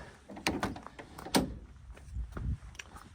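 Suicide door of a 1959 Fiat-Abarth 750 Derivazione competition car, a few quiet clicks and latch knocks at moderate distance, with soft handling noises between them.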